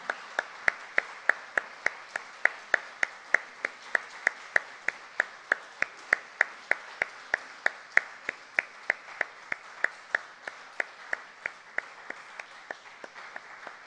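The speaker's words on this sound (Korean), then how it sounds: "우리 청년들 들어갈 때까지 우리 박수로 격려하도록 하겠습니다." A church congregation at a dawn service claps in unison, a sharp, regular beat of hands roughly twice per second sustained for the whole stretch, crisp and fairly close, with no talking.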